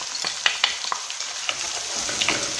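Onion and frozen peas fry in a hot pan with a soft, steady sizzle, broken by sharp crackles and pops as the peas hit the oil and are stirred.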